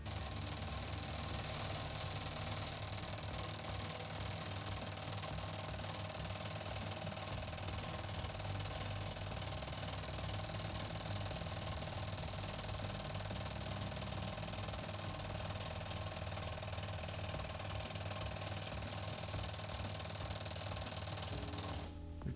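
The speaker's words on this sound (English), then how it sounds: "Now we'll put another cutter in, and we'll get our diameter around here for what we were looking for." A milling cutter machining the outer diameter of a metal knob runs as a continuous, steady mechanical whir with a constant hum and fine chatter, close and unbroken throughout with no talk.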